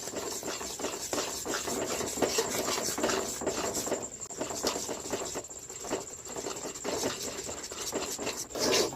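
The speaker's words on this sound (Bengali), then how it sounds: "এইভাবে অনবরত নেড়ে চেড়ে মিডিয়াম শক্ত একটা ড্রো তৈরি করে নেব" Rice flour is stirred into boiling water to form a medium-stiff dough for tal kadam pitha, giving a continuous close scraping and rubbing texture with soft patter throughout, fairly quiet and without talk.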